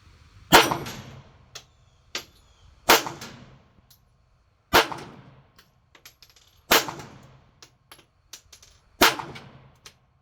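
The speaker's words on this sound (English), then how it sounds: "even though it's shooting a small caliber 380, it does have a lot of punch" Ruger LCP Max .380 pistol fired outdoors, five sharp loud gunshots spaced about two seconds apart, each with a brief ringing decay, with a few faint clicks between shots.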